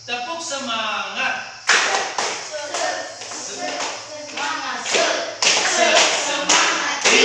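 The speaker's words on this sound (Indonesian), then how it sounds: "Tepuk semangat." Students stand and perform a rhythmic Indonesian spirit clap in a classroom, sharp group claps in patterned bursts mixed with a chanted voice that carries along with the clapping.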